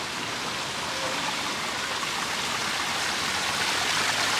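Water flows steadily in a park stream in Singapore, a dense, constant broadband rush of running water over rocks that holds even and close throughout, with no voices.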